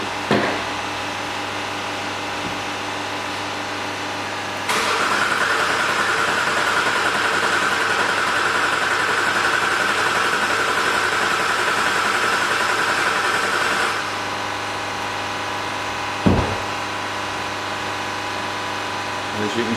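A Jaguar XF 3.0 diesel with a cutting-out fault idles with a steady mid-pitched rumble, rising a little for several seconds before settling back, with a brief knock near the end.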